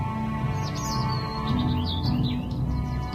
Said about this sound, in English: I really like that bird song effect